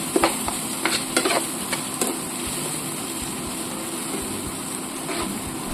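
Masala with coconut powder and turmeric frying in a pan, a steady close sizzle with a few scraping stir strokes near the start and no voices.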